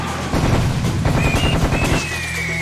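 Rapid machine-gun fire from the video game Serious Sam HD: The First Encounter, with dense bursts of shots rattling continuously and loudly through most of the clip, no talk over it.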